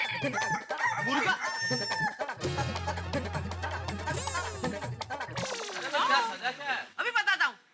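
A person imitates a rooster crowing, giving a few drawn-out cock-a-doodle-doo calls between bursts of talking and other voices, fairly close and clear.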